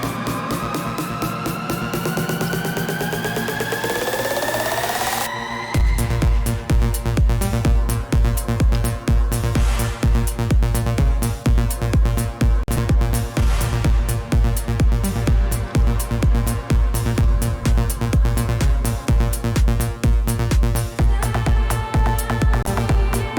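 An electronic music track plays loud: a sustained synth build with a rising sweep for about five seconds, then a driving four-on-the-floor kick with dense synths that continues to the end, no talking.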